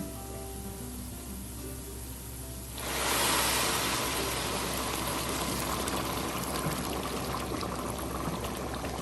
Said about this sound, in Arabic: دلوقتي معانا الميه المغليه بتاعتنا هنحطها